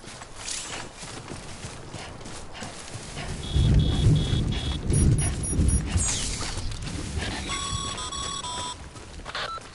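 Timefall rain hisses steadily across a Death Stranding landscape while thunder rumbles low and loud in the middle, with brief mechanical beeps and chimes from gear cutting through.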